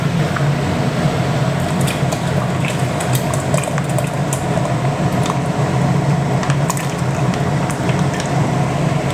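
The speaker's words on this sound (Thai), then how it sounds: "อันนี้ก็เราก็จะใส่กะทิส่วนที่เหลือลงไปเลยนะครับ" Coconut milk from a bag is poured into a pot of chicken curry with fresh bamboo shoots, giving a steady, continuous liquid pour with soft splashing and bubbling, close and unbroken throughout without talk.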